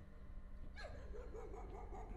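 Dogs bark and yelp faintly in the video game Layers of Fear, a sudden cry followed by wavering, whimpering barks that sound distant and quiet against a low background rumble.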